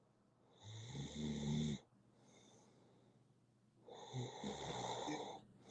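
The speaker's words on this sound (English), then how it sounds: "I hear somebody snoring" A sleeping person snores in two long, heavy rasping breaths with a quiet pause between, close and fairly soft, with no talking over it.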